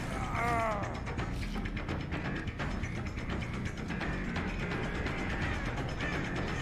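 Crow cawing in the horror game Dead by Daylight, a short call near the start over a dense, steady wash of mechanical in-game ambience and creaking.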